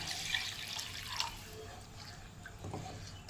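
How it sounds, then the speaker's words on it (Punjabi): Water runs and splashes steadily into a pan of oil for a cucumber curry, a close, continuous trickling pour with a few brighter drips along the way. "ਹੁਣ ਇਹਦੇ ਵਿੱਚ ਪਾ ਦਿੰਦੇ ਆ ਪਾਣੀ"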